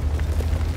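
The IS3a heavy tank's gun fires in World of Tanks, a single deep, rumbling boom that lingers briefly with low resonance.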